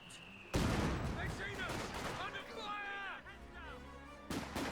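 A rifle grenade blast during a Company of Heroes 2 match, a sudden loud explosion that rings out into a dense battlefield din of gunfire and rumble, followed by a second sharp burst near the end.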